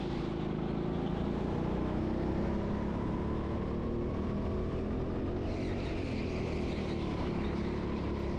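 A go-kart engine drones steadily on the track at TeamSport Sheffield karting, a continuous close, loud engine roar with wind-like noise and no pauses, alone without talk.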